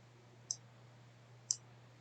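Two crisp mouse clicks about a second apart, sharp and close, over a low steady hum, opening a setup file on a computer.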